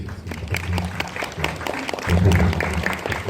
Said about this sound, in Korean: 한 번만 박수 한 번만 쳐주시겠습니다